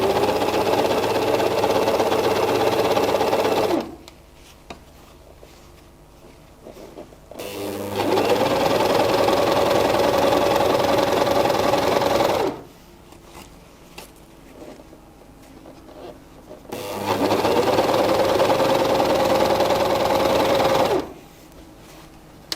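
A Gritzner 788 / Novum 960D sewing machine stitches in three loud, steady runs of several seconds each, its close mechanical hum broken by quiet pauses between runs.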